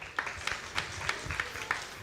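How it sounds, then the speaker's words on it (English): Sparse, quiet audience clapping at a magic show, only a handful of separate claps at a loose, uneven rhythm over a faint room background. "Everyone give Steve a round of applause."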